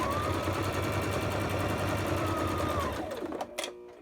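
A sewing machine stitches a handmade journal in one continuous fast run of close mechanical chatter that slows to a stop, followed by a few light clicks.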